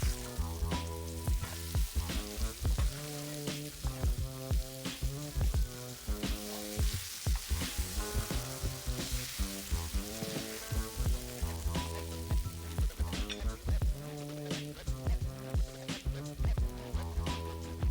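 Bean bake mixture stirred and cooking in a pan for a cheesy, spicy black bean bake, a soft steady sizzle beneath prominent rhythmic background music.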